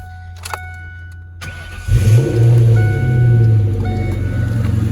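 A 1996 Ford Mustang SVT Cobra in Mystic Pearl cold-starts with a sharp starter whir and catches into a loud, throaty idle. It blips once up and settles into a steady rumble close to the car, with no talking.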